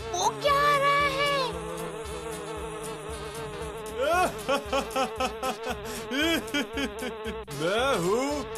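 Cartoon flies buzz in a steady, whiny drone for the first seconds, then rising and falling swoops in the buzz pass close by, loud and bright over a busy soundtrack.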